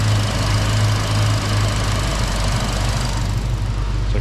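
A 1966 Mustang fitted with Sniper EFI idles at around 720 RPM with a steady low rumble and a faint mechanical knock, loud and close, with no voices.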